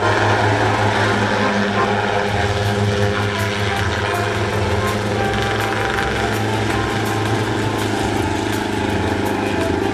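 A steady mechanical engine drone of a Bell helicopter spraying a vineyard nearby, holding constant throughout with a faint high rhythmic flutter.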